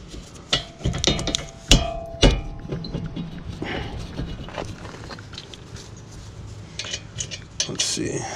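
Metal clanks and clinks from tools and parts being handled while a part is unscrewed during a front and rear brake pad replacement on a Honda Civic Type R, with sharp taps early and quieter rattling after.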